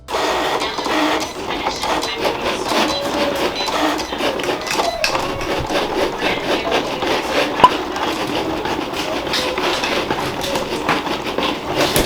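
A Cricut Explore 3 cutting machine works through a cut, giving a steady mechanical whir with rapid, rhythmic clicking and rattling. It runs close and continuous for the whole stretch, with no talk.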